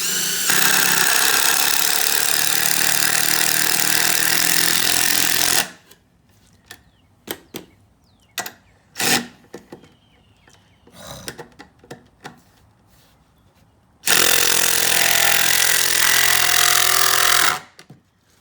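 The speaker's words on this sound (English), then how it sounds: "he's been tapping with the drill to line them up" A power drill used as a tapper on square landscape timbers for a garden runs in a long loud burst, then gives scattered sharp knocks and short bursts, before another sustained loud stretch.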